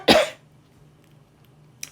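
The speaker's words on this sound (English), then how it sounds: "Excuse me, I need to cough." A single sharp cough bursts out at the start, close and loud, followed by near silence and a faint short sound at the end.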